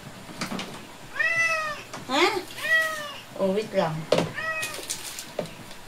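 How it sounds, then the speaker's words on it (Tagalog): A pet cat meows repeatedly in drawn-out, rising and falling cries close by, several calls in a row, while someone speaks briefly between them. "Ingay yung pusa ko na yan."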